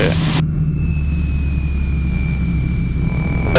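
A light aircraft engine drones steadily and fairly loud on a short-field landing approach, with a brief louder burst at the start and again at the very end.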